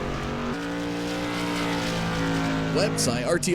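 A race car, the number 96 run by Robbie Johnston Racing, circles The Bullring oval at LVMS during an ISTRA event, its engine droning steadily with a rising rev sweep near the end, under continuous commentary.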